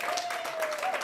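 An audience at a Kenya Prisons women's staff awards ceremony claps steadily through a brief moment, with a faint sustained tone running beneath the clapping.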